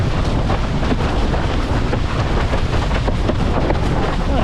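Gusty wind blows across the microphone on a sailboat, a loud, steady roaring rush with constant buffeting and no talk.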